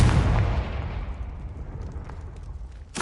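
A Confringo blasting spell goes off in Hogwarts Legacy with a loud, booming explosion at the start, then a long rumbling decay that fades over a few seconds before another sharp burst at the end.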